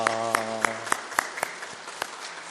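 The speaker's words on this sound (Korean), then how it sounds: "우리 큰 박수로 환영하겠습니다" A church congregation at a Sunday worship service claps in welcome, a short spell of separate, distinct claps over a lingering musical tone that fades out.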